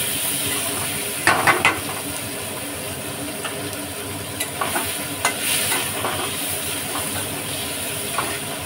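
Fish curry frying in a pan with onion and tomato added all at once, a steady close sizzle and hiss with occasional scraping stir clatters scattered through it.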